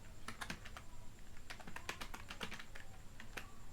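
Fast, irregular clicking of keys on a computer keyboard, typed close up and fairly quietly in short bursts, with no voices.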